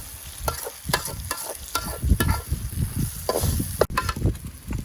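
Onions and tomatoes sauté with ginger garlic paste in a pan, a steady sizzle broken by repeated sharp scrapes and clacks of a spoon stirring, close and without any voices.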